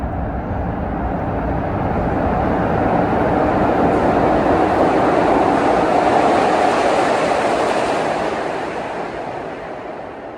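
A 1980s-built Kawasaki subway train on Philadelphia's Broad Street line roars past in the tunnel, a loud broadband rumble and rush that swells to a peak mid-pass and eases off toward the end, with no voices.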